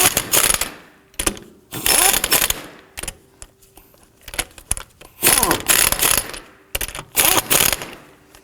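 Lug nuts being snugged down on a 2005-2009 Subaru Legacy rear wheel with a ratchet, loud close bursts of rapid clicking separated by short pauses, repeated several times.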